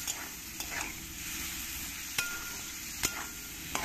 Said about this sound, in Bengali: এবার এই তেলের মধ্যে আমি চিংড়ি মাছগুলো ভেজে নেব।